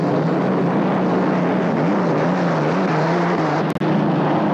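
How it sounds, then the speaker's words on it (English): Loud, sustained roar of the racing hydroplane Risley's Express engine at a 1984 Evansville race, droning steadily close by with a slight wavering pitch and a brief dropout near the end. "There's the third place boat, the Risley's Express with Scott Pierce"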